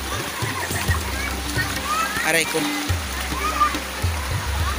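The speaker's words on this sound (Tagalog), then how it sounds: "ngayon po naliligo. Ang ganda po ng tubig, ang lamig at ang linis." People bathing and splashing in a cold, clear river, with steady flowing water and intermittent splashes under close talk from an adult and children.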